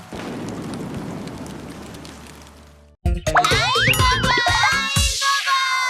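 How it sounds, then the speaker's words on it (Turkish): Steady rain falls outside, a soft, even wash of noise lasting about three seconds before it cuts off abruptly and bright, bouncy cartoon-style tones and jingles take over. "Dışarıda ne güzel yağmur yağıyor değil mi oğlum?"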